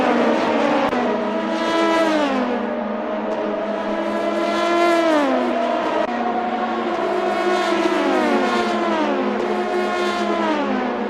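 Several race cars roar through a Le Mans endurance race in a sim-racing video game, engines rising and falling in overlapping pitch sweeps as they downshift and accelerate, loud and continuous with no talk.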